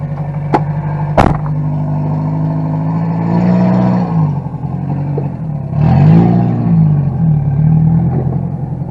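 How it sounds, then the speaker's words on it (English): A car engine idles high with a steady low hum, then revs up twice in swelling surges, close by, after a couple of sharp clicks at the start. "I still think it's idling kind of high because I barely gave it any gas and it just took off"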